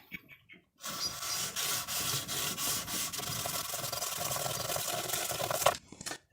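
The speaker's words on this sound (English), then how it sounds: "get a little block like so to sand the bevels, make sure I get file marks out of them" A small sanding block rubbed back and forth along the bevelled fret ends of a guitar neck, a close, continuous scratchy rasp lasting several seconds before stopping abruptly.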